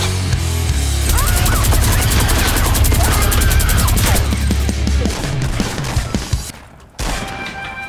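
Minigun fire in the video game Fortnite roars as a dense, continuous rapid burst for about five seconds, loud and close, then trails off into scattered game sounds and a sudden cut.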